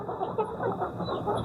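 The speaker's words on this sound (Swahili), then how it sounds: "Nafuga kuku, hawa ni kuku chotara." Crossbred layer hens on a poultry farm cluck and murmur steadily in a dense, close flock chorus, with no talk over it.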